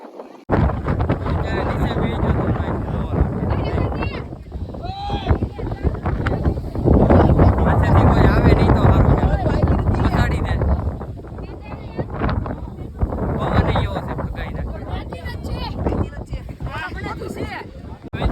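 Strong wind buffets a phone microphone on a hilltop during rain, a loud continuous roar and rumble that swells and eases, with people talking over it throughout.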